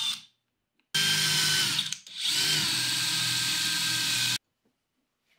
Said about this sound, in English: So I'll just drill through, being careful not to blow out the bottom of it.